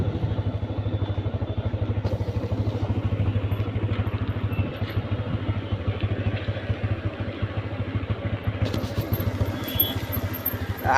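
A motorcycle engine idles close by with a steady low chugging throb, continuous and unbroken.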